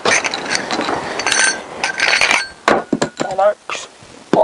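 A bolt on the front forks of a CBR1000F motorcycle is worked loose with a ratchet, giving clicking and clinking metallic bursts with some nearby voice.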